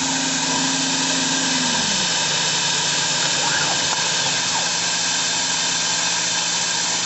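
Citizen R-04 CNC Swiss lathe running a program to machine small pins, a steady loud whirring hum with a high whine throughout, and a low tone that drops away early on.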